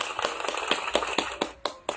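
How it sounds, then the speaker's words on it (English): Small children in a kindergarten class clap their hands together, about eight sharp, evenly spaced claps in a quick steady rhythm, close and fairly light, with no talking. "Clap your hands."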